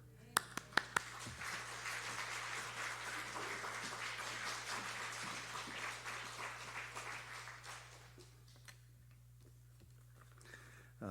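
A church congregation gathered for a monthly new-moon prayer service applauds to welcome a visiting pastor, steady massed clapping from the room that holds for several seconds after a few sharp claps, then fades out toward the end.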